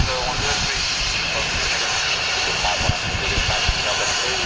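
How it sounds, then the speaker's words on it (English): An N-registered private jet at Luton Airport makes a loud, continuous engine roar and whine close by, with a voice speaking over it. "I very much doubt this is him because it's an N-registered aircraft"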